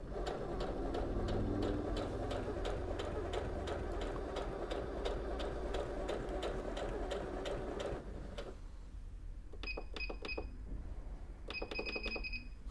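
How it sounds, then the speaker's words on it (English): A Singer Heavy Duty HD6805C sewing machine stitches calico fabric with a steady rapid needle clatter for about eight seconds, then the motor stops and a few short bursts of stitching follow with pauses between them. "And I put in some calico fabric. Put it down and start sewing."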